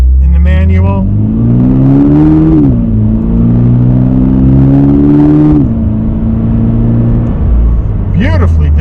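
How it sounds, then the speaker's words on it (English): A 2026 Toyota GR86 with a manual transmission accelerates, its engine and exhaust droning steadily with rising revs and a brief shift in pitch midway, loud and close, with a throaty tone. "Got a nice exhaust tone in the manual."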